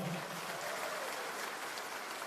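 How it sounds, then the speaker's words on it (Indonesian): Applause from an audience at an Indonesian presidential campaign event for candidate Prabowo Subianto, a steady broadband wash of clapping that stays even and fairly distant throughout. "Tepuk tangannya yang paling meriah mana dong?"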